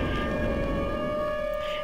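A loud, steady electronic siren tone in a Minecraft weather and tornadoes mod drones continuously with sustained pitched bands and no pauses, filling the whole moment.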